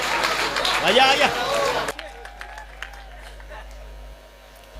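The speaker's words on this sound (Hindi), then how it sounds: "तालियां हो जाए आपको" Brief applause bursts from a live audience at a humorous talk, loud under a man's speech for the first two seconds, then fading to sparse scattered claps over background noise.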